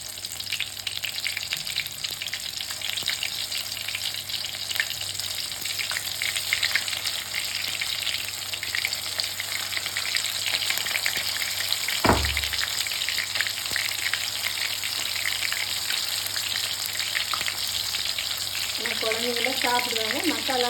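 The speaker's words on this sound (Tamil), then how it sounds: "மசாலா இல்லாட்டி அப்படியே இந்த எண்ணெயில் பொரிச்சு எடுத்து கொடுக்கலாம்" Soya chunks (meal maker) deep-fry in hot oil, giving a steady, dense sizzle and crackle close up that continues throughout, with a brief thump midway and some stirring clatter near the end.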